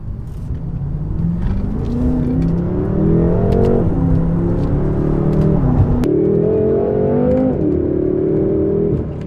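A BMW M6 Gran Coupe Competition pulls hard in second gear, its engine note climbing steadily in pitch, dipping briefly at a shift around the middle, then rising again. The sound is loud, close and continuous, with no talking.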